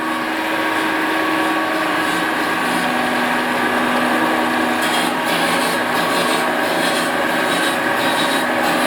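A loud, continuous rasping grind of an abrasive tool honing an engine cylinder bore, with a steady mechanical hum underneath and no pauses.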